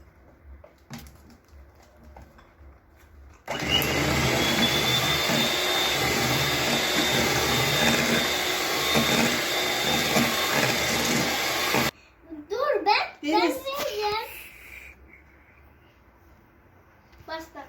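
An electric mixer whirs steadily while mixing chocolate cake batter, a loud continuous motor drone lasting about eight seconds, then cutting out before a voice speaks.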